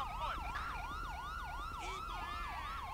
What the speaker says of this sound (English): I need to turn off the siren